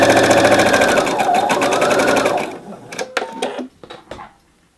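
A sewing machine stitching a French dart runs loud and steady with a fast mechanical whir for a couple of seconds, then stops, followed by a few clicks and handling knocks.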